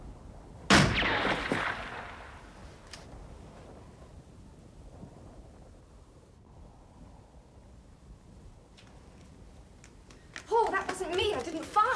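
A single gunshot effect in a radio mystery drama cracks loudly near the start and fades into a decaying tail, followed by quiet room tone and then a sudden burst of sound near the end.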